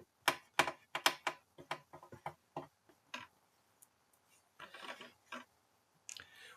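Small screws are backed out of a plastic part of a 1/8-scale 1966 Batmobile model, heard as close, dry clicking ticks in quick irregular bursts with short pauses between.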